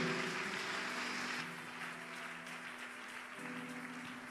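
A church congregation applauds at a French-speaking worship service, with steady, fairly loud clapping from a crowd throughout and a sustained low instrumental tone underneath.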